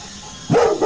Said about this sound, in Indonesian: Dari kejauhan terdengar gonggongan anjing.